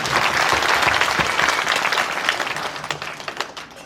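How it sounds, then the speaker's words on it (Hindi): A crowd at a Shrimad Bhagwat Katha religious gathering claps loudly to welcome the pradhan, a dense, steady burst of applause that gradually thins and fades toward the end. "एक बार सब भाई बहन प्रधान जी के अभिनंदन के लिए जोरदार ताली।"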